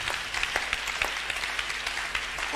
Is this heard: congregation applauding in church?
yes